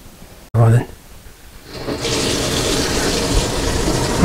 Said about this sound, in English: now we have our water running